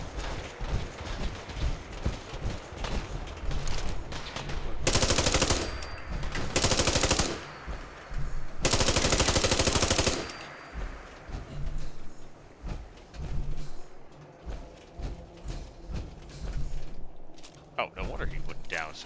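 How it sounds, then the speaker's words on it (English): Gunfire in the video game Fallout 4: long, loud machine-gun bursts with clusters of shots and mechanical clatter between them, mixed with game effects and talk. "he's getting shot at."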